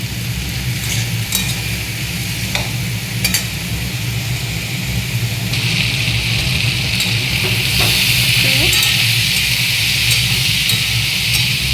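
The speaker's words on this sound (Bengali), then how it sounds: "কালো জিরে ফোড়ন দিয়ে, পেঁয়াজ আর টমেটো দিয়ে আমি ওলটা চাপিয়ে দিলাম" Elephant foot yam frying in a pan with onion, tomato and nigella seeds gives a steady close sizzle throughout, with occasional stirring scrapes and clinks, the hiss growing brighter and louder in the latter half.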